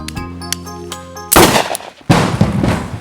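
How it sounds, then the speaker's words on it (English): Gunshots ring out in two loud bursts of rapid gunfire after a quieter stretch of music, each burst sharp and close with a rattling, machine-gun-like spray of shots. "You're shooting people at random?"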